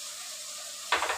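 Sliced onions sauté in a pan for a Tamil-style dried fish curry, first a soft continuous sizzle, then a sudden louder burst of frying and stirring with a couple of scraping pulses.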